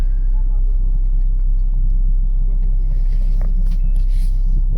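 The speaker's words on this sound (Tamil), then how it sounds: "பாருங்கள் மிகப்பெரிய டிராஃபிக் ஜாம், வண்டி போக முடியாத அளவுக்கு." Vehicles sit in a big traffic jam on the mountain road to Manali, giving a steady, loud low engine rumble and idling drone throughout, with faint scattered higher noises from the road.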